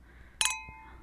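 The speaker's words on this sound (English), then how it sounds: "Maybe a clinking of glasses would help." Glasses clink once with a bright, ringing chime that decays quickly, a faint softer knock following; the setting is otherwise quiet.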